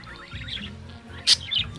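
Brief, bright parakeet chirps and tweets, a couple of sharp calls over a soft background murmur, close by.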